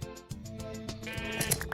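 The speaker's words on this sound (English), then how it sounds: "And cut some more sheep again" Minecraft sheep bleat repeatedly during shearing in the video game, several short wavering cries in quick succession, fairly quiet and close.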